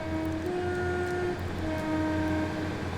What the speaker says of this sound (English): Let's have a little listen to the 153.